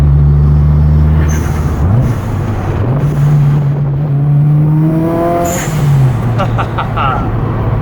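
Subaru WRX on air suspension drives along, its engine droning steadily with rising and falling pitch as it shifts, close and loud, with people talking over it.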